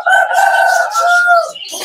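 A rooster crows loudly and close by in one long, sustained call, with hens clucking briefly near the end.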